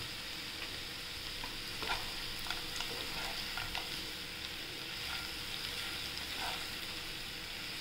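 Fasting-style potato bhaji being sautéed with coarsely crushed peanuts, a steady frying sizzle under scattered light scrapes and taps of a spatula in the pan, close and continuous.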